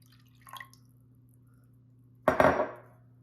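A ceramic ramekin holding an egg for oeuf cocotte is set into a baking dish with a light clink, then hot water is poured in as a brief, close splash that quickly fades.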